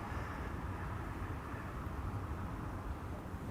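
An airliner rolls out on Schiphol runway 18R with idle reverse thrust, a steady broadband engine roar that stays loud and even throughout without rising.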